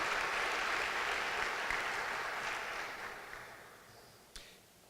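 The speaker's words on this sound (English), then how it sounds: "we give him another round of applause" Audience applause at a mayor and council economic development breakfast, a dense wash of clapping that slowly fades over several seconds, with a brief sharp knock near the end.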